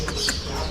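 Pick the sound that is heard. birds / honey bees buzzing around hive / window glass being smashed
birds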